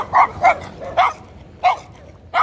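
A small dog barks in five sharp, high yaps spaced irregularly over a couple of seconds, close and fairly loud against a quiet indoor background.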